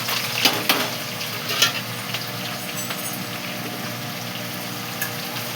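Garlic, onion, dried chillies and curry leaves sizzle and crackle in hot oil, with scattered pops over a steady frying hiss.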